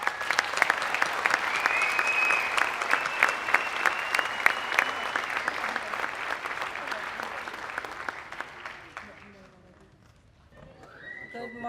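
Sustained audience applause fills a school-district recognition ceremony for Native American students, dense overlapping claps at close range that gradually thin out near the end, with a few voices and cheers rising as it fades.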